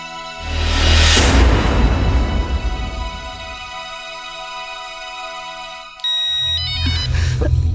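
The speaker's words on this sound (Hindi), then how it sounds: "अरे यार, ये फोन भी ना।" A bright electronic phone ringtone plays loudly, its melodic tones ringing out over a sustained musical background with no voices.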